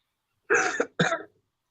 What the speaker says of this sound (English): we can hear you coughing.